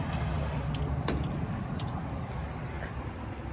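Pickup truck engine rumbling steadily as it drives off on a hot, humid Florida road, a close, continuous low drone with faint passing sounds.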